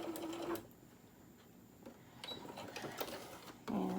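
Sewing machine back stitching along the seam of a zippered fabric pencil pouch, a close mechanical whirring run in short bursts with brief pauses between, loud and steady with no talking.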